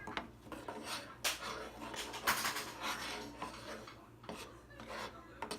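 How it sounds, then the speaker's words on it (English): A utensil scrapes and clinks against a bowl while peanut butter is whisked into oatmeal, giving irregular close scraping and tapping strokes with faint background sound. "I'd like to kind of like whisk it around, and it starts melting"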